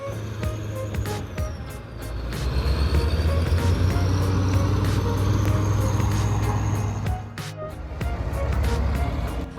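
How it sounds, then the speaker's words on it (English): Heavy tractor engines, including a K701, roar at high load while dragging a machine stuck in swamp mud, a loud continuous rumble that swells and eases with sharp knocks and clanks over it. "Engines roar, torque surges, dirt and rocks fly everywhere."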